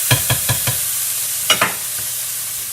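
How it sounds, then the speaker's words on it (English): Gluten-free gnocchi sautés in dairy-free margarine, a soft sizzling hiss under a quick run of four sharp utensil taps against the pan, then two more knocks and a faint one as the frying continues. "When you've finished sauteing your last batch of gnocchi, you'll be glad that long process is over."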